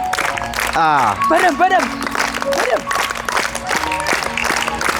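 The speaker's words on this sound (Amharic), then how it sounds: "ሚስተር አሰፋ አጨብጭቡለት።" Children clapping for Mr. Asefa at a kids' Nations, Nationalities and Peoples' Day celebration, a burst of group applause that swells and fades beneath a voice and children's chatter.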